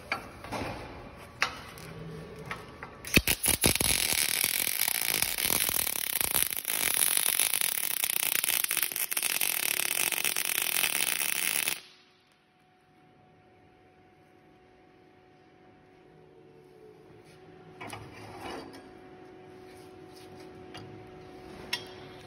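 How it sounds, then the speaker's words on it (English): Welding a mountain tarp flip spring gives a loud, continuous crackling and sizzling arc for about nine seconds that stops abruptly, with a few ticks before it and a faint hum after. "We're gonna go ahead and weld this."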